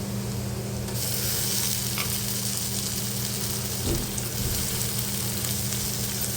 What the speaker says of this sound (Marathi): टोमॅटो घालून परतून घेऊया व्यवस्थित